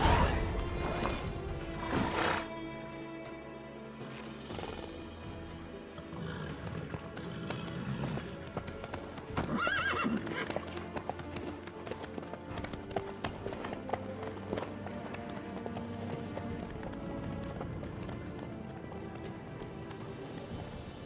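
A horse gallops with steady clip-clop hoofbeats in the video game The Witcher 3, loud and continuous for about twenty seconds under a dense bed of game music and ambience, with brief voices.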